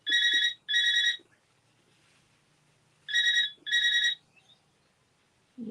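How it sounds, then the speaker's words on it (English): A home landline telephone rings in two-burst patterns, two electronic trills, a pause of about two seconds, then two more, loud and close in an otherwise quiet room. "That's the home phone."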